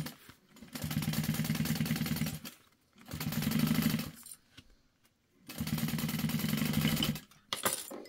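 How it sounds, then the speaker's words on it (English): A sewing machine stitches a quarter-inch seam on a tote bag in three steady humming runs of about two seconds each, separated by short pauses, close and clear with no talking. "we're just sewing this at 1/4 of an inch"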